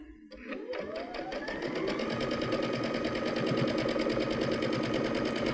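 A Baby Lock sewing machine with digital dual feed stitches fabric in a fast, even mechanical rhythm, starting up and running steadily up close with no voices.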